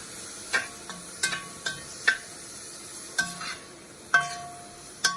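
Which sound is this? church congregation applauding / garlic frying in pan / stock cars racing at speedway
garlic frying in pan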